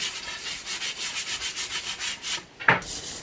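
Rhythmic sandpaper strokes rasp over a wooden wild rice knocker, close and regular, then break off briefly before a single sharper knock or scrape near the end; no speech.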